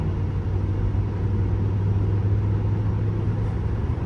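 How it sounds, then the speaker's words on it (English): A 2006 Cadillac DTS pulls away on a roadside, its engine a steady, close, low rumble that holds even throughout with no voices. "Show you how the car accelerates."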